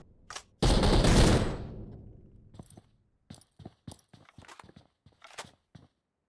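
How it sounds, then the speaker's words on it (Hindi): Gunfire in the mobile battle royale game BGMI during a tournament match: a loud burst of automatic fire, then a string of sharp, separate shots and short bursts, crisp against near silence. "ओमेगा ने स्पॉट किया गॉडल मैक्स को, शॉट्स लिए लेकिन डैमेज नहीं कर पाए।"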